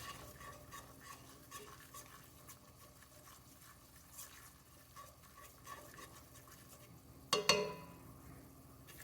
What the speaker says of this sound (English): Again, mix it all up well.